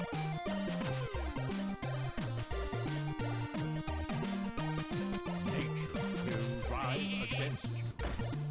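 A Polymorph sheep bleats in the card game Hearthstone: one short, wavering bleat near the end, over loud, busy background game music.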